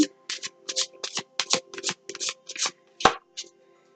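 Tarot cards being shuffled by hand, a quick run of crisp riffling bursts close to the listener, roughly a dozen short snaps in an uneven rhythm.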